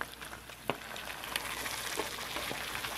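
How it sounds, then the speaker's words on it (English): Almond milk sizzles in a hot pan with a faint steady crackle and a few sharp pops, heard close with no speech. "Almond milk sizzles."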